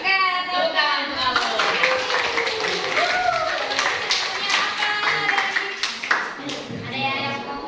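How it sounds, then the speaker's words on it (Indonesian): Children in a classroom clap together, brisk rapid hand claps mixed with lively young voices chattering over them, close and fairly loud. "Oke, tepuk tangan."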